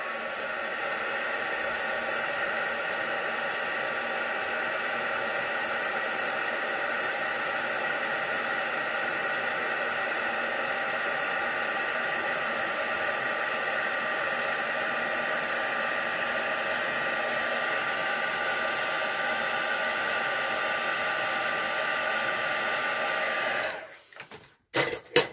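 Heat tool blowing hot air to dry ink on a handmade anniversary card, a steady close whooshing hum running unbroken for over twenty seconds before clicking off.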